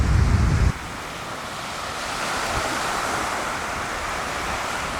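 Waves wash onto a beach on the Sea of Cortez in a steady broad rush, with wind buffeting the microphone loudly for the first moment before easing into a continuous surf roar.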